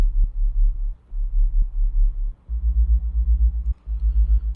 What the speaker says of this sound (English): this detuned sine wave wobble quite low